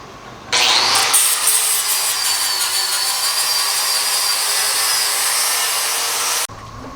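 A power grinder spins up and grinds steel flush continuously for several seconds, a loud, harsh high whine, then stops abruptly.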